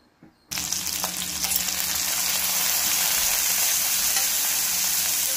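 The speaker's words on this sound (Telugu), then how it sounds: "అలాగే ఒక స్పూన్ జీలకర్ర కూడా వేసుకొని ఫ్రై చేసుకుంటున్నాను." Fifteen or sixteen green chillies and a spoon of cumin for tomato chutney hit hot oil with a sudden loud sizzle that keeps crackling and hissing steadily, close up, with no voices.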